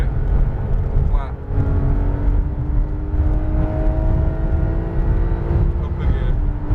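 A Porsche 911 GT3 RS engine runs flat out on a race track, with a loud, steady, rising tone that continues the whole time while an instructor talks over it.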